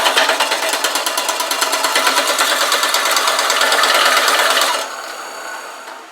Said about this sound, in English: I'm going to drill the top of it for this copper fitting here.